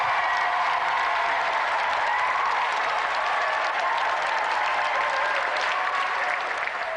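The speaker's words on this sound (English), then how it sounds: "Another round of applause for our special guest" A television game show studio audience claps steadily for guest racing driver Johnny Herbert, an even, unbroken wash of applause holding at a moderate level throughout.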